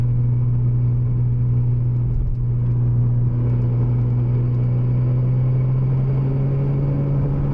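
Porsche Cayman 987 Turbo with about 700 hp cruising in fifth gear around 2500 rpm, giving a steady, low engine drone and rumble heard from inside the cabin, constant and unbroken with no talking.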